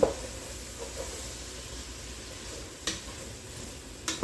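Oxtail stew ingredients sautéing in a pan, a steady soft sizzle and hiss with occasional stirring scrapes, heard close and alone.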